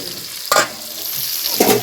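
Masala brinjal curry being stirred in a pan, with two short scraping stirs against a steady sizzle of frying, close and fairly loud, no voices.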